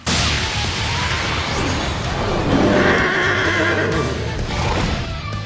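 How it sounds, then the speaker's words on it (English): Anime Pokémon cry of Camerupt, a loud horse-like neigh and whinny that rises and falls over several seconds amid dense background effects. "And what's up with Camerupt sounding like a horse?"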